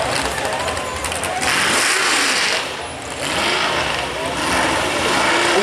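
An alcohol-fuelled modified mini pulling tractor at a night pulling event, its engine roaring loud and close in a sustained high-revving blare that dips briefly and surges back.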